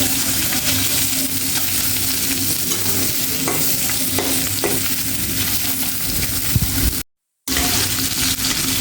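Small local koi fish fry in hot oil, giving a loud, continuous close sizzle with faint crackles, broken by a very short silent gap near the end.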